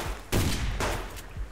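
Gunfire in the survival video game Subsistence, a few loud close bursts of shots separated by short pauses, with bullets cracking in quick clusters.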